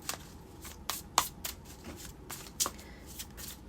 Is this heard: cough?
no